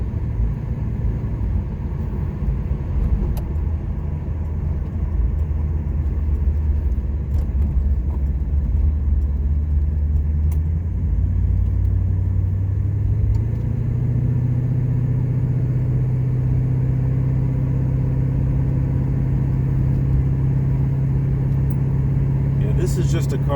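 A 1979 Pontiac Trans Am with a mild build cruises along, its engine giving a steady low rumble inside the cabin with a slight shift in pitch partway through, under a voice talking.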